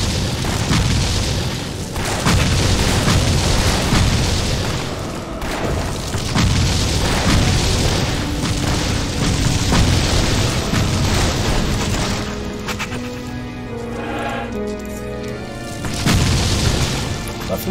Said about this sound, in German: Ein kritischer Explosionsschuss.